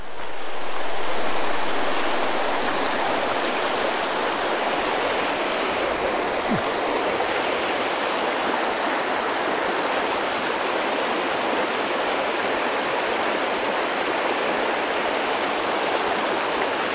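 A continuous broadband rush of flowing water, like a fast stream nearby, steady and fairly loud throughout with no voices.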